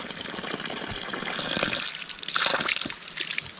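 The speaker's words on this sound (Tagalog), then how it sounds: "Dito sa probinsya, yung tubig, walang putol ang daloy. Palaging umaagos." Water flowing without pause in a rural province, a continuous close splashing trickle with a bright hiss that swells toward the middle, loud and steady with no talk.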